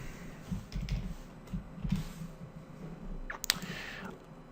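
Soft, quiet clicks of typing on a computer keyboard come in small irregular bursts over a low room hum, close and faint, with no talking.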